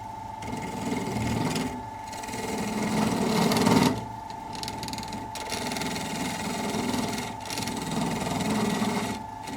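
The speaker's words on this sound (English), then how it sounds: "Sand in with sandpaper." Sandpaper pressed against a square oak bowl spinning on a wood lathe, giving a steady close whirring hum with rough, rasping friction that swells and eases as the paper moves.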